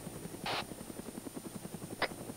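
Helicopter in a video game: a steady rhythmic rotor chop throbs at moderate level throughout, with two brief brighter bursts standing out over it.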